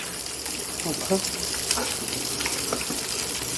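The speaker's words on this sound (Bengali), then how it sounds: "এটি আরও ভাজা হচ্ছে মানে অল্প করে ভাজছি আর দিচ্ছি" Steady sizzling of fish frying in hot oil, a constant crackling hiss with a few soft clinks, no one speaking.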